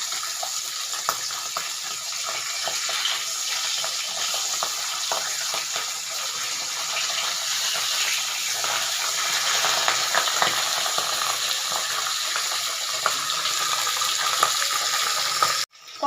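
Pabda fish fry in hot oil in a pan while pieces are turned one by one, a dense continuous crackling sizzle close by with faint scrapes, no voices, ending abruptly.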